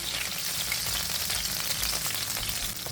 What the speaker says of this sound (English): And I've been cooking these for a few minutes.